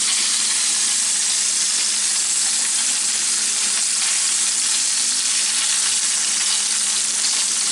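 Griot, Haitian fried pork, sizzling in hot oil in a pan, a dense, steady hiss and crackle that stays loud and unbroken throughout, close up and with no voices.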